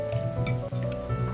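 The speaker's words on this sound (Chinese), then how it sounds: "把红糖水煮开， 倒入冰好的波霸" Chilled tapioca pearls tipped into a pot of boiling brown sugar syrup, giving a short wet plopping and sloshing with a steady bubbling hiss underneath, close and moderately loud.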